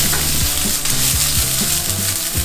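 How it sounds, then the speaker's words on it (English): Chopped shallot frying in hot olive oil in a pan over high heat, a steady loud sizzle with faint scraping and stirring clatter underneath. "this is going in my hot pan, high heat, with a nice amount of oil, olive oil, and going right in"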